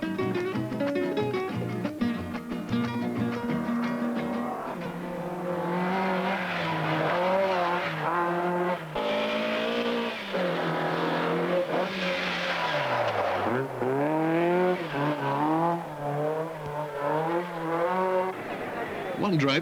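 A 131 rally car, number 7, drives a 1980 World Rally Championship stage, its engine revving up and down in repeated sweeps with possible tire squeal, close and loud under a commentator's voice.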